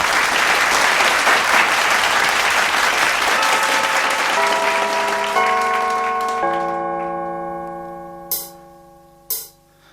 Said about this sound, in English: and give him a big round of applause, Colin Ellerton.